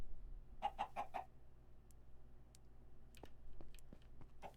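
A chicken in the Minecraft modpack Stoneblock 3 lets out a quick run of four soft clucks, then a few scattered faint clucks and clicks over quiet background hum.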